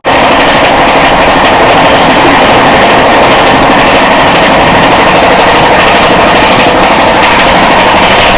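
The Nizamuddin (Delhi) to Hubballi weekly superfast AC express runs with a loud, continuous rumble and rattle of wheels and carriages that holds steady throughout.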